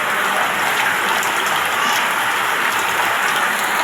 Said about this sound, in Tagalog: Tuloy pa rin ang ulan eh.